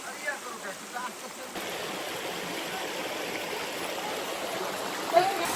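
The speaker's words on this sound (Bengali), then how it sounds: "এখান থেকে অনেক শব্দ পাওয়া যাচ্ছে ঝর্ণার" Khaiyachara waterfall rushes as a steady, continuous roar of falling water heard from some distance along the trail. A few faint thumps come early, then the sound holds an even, broad hiss.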